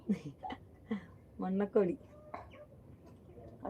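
Chickens, including a country hen, cluck in short, scattered bursts, fairly close, with a few louder squawking calls in the middle and quiet gaps between.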